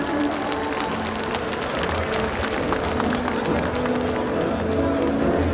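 Continuous applause from a large crowd at a ceremony marking Kim Dae-jung's 100th birth anniversary, steady and dense throughout with a roomy, rumbling background.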